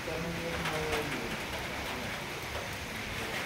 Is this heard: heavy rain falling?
yes